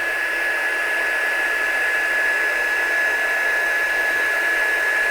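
Heat tool setting embossing powder, a continuous close blowing hiss with a steady high-pitched whine running evenly throughout, alone with no talking.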